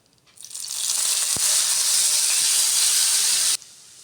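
Ginger garlic paste frying in a pan for egg curry gives a loud, steady sizzle that swells quickly, holds for about three seconds and then cuts off abruptly.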